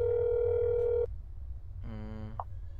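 A telephone dial tone in a neighbor-themed video game hums as a steady, loud tone for about a second while a number is called, then cuts off, followed by a brief buzzy electronic tone and a short blip.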